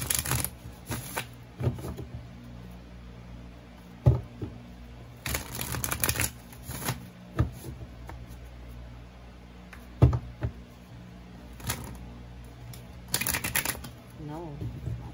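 Tarot cards being shuffled in several separate riffling bursts spread over the span, close and crisp, with pauses between them and a person talking in places.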